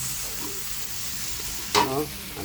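Tomatoes cook in a pan for ginataang tilapia, made with fish from Laguna de Bay, giving a soft, steady sizzle with a brief louder stir or clatter near the end.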